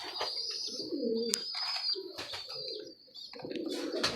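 Several pigeons coo in short, repeated phrases close by, with light chirps and a faint wing flutter between calls, and no talk.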